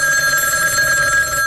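A telephone bell rings in a 1970s Houston radio commercial, one loud, continuous electronic trill lasting about a second and a half, heard alone.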